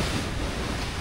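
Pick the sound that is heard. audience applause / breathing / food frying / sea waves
sea waves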